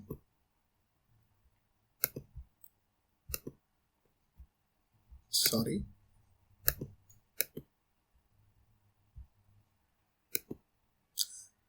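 A computer mouse clicks in sharp, isolated taps spread through an otherwise quiet room, including a quick double click, with a brief spoken word and a short rustle partway through.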